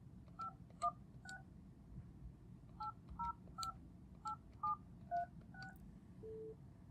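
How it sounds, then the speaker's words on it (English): Dual-tone dialing beeps from a RingCentral business phone, about a dozen short key tones in two quick bursts separated by a pause, with a steady low hum underneath and a longer tone at the end. "Now what I'll do is I'll make that same call from a RingCentral phone."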